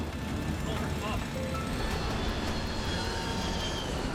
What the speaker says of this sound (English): The crew increases engine power, but it's too late.